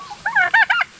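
Farm fowl called turkeys give a series of loud, close, nasal honking calls in quick bursts as they approach near a tilapia pond.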